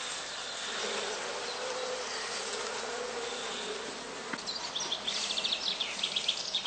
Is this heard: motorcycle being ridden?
no